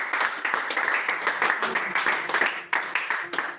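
Church congregation clapping and applauding at a sermon, a dense, sustained burst of many hands with uneven rhythm, fairly close and lively, with voices mixed in.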